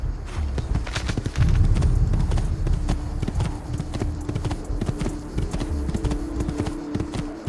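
Horse galloping in the video game Assassin's Creed 2, with loud, close, rapid clip-clop hoofbeats in a steady driving rhythm throughout.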